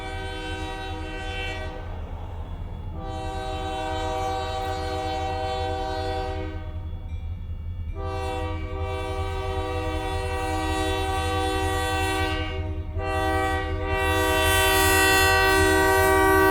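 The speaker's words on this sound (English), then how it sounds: "See you when the train gets here." A freight train running on an old spur line near Idabel, Oklahoma, rumbles steadily past at close range while its air horn sounds in several long, loud blasts broken by short pauses, with faint clickety-clack under the horn.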